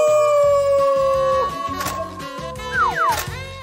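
A voice imitates a werewolf howl with a long, loud, wavering tone that slides in pitch, backed by a rhythmic musical beat.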